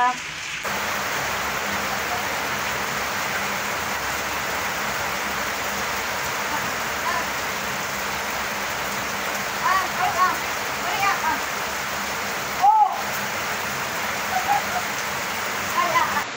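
Rain falls steadily as an even, continuous hiss of moderate loudness. A few soft thumps and brief dips break it later on.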